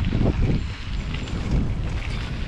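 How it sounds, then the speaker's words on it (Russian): Wind blows steadily outdoors, rushing and buffeting close against the microphone in a continuous broadband roar with gusty swells and no other clear sounds. "Ветерок такой дует."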